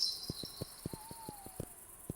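A tinkly video game pearl sound effect from a custom level, a rhythmic run of short clicking pulses under a faint sustained tone, steady and moderately quiet with no voice.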